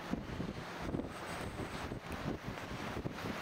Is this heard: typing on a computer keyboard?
no